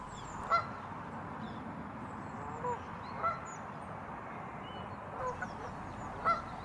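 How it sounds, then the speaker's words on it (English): A Canada goose gives several separate honks at a lake, spaced a few seconds apart and moderately distant over steady outdoor ambience. "Canada goose,"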